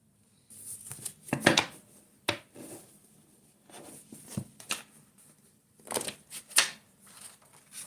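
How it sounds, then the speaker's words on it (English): Oracle cards riffled and shuffled by hand, with soft papery flicks and snaps in short irregular bursts, close up and fairly quiet, no talking. "I'm gonna end this by pulling a few oracle cards."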